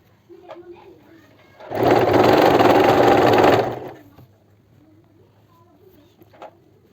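An automatic sewing machine with a built-in light stitches kurti fabric in a loud, steady whir lasting about two seconds, starting and stopping abruptly, with quiet room noise before and after.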